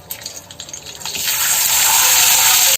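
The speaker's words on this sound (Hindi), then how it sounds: "राइस को फिर लिया सो राइस डाल दे रहा हूँ।" Cooked rice tipped into hot oil in a pan for egg fried rice, a loud, close sizzle that starts with scattered crackles and swells into a continuous hiss before cutting off abruptly.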